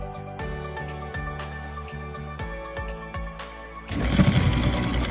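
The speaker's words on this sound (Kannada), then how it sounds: "ಸೊ ಇವಾಗ ಒಂದು ಸಿಂಗಲ್ ನೀಡಲ್ ಸ್ಟಿಚ್ ಆಗ್ತಾ ಇದೆ." An ordinary sewing machine runs a single-needle stitch along a jeans hem, a steady close mechanical whir with rhythmic needle thumps, then a louder, rougher burst near the end.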